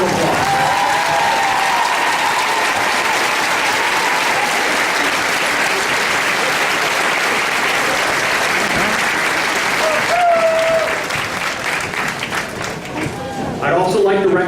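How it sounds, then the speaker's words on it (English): An audience at a veterans ceremony bursts into sustained applause, broad steady clapping from many hands that tapers off near the end, with some voices mixed in. "give them a round of applause"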